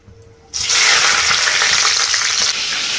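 Whole spices such as cinnamon, cloves, cardamom and shahi jeera with green chilies hit hot oil, jumping from near quiet into a loud, steady close sizzle that eases slightly near the end, with no talk.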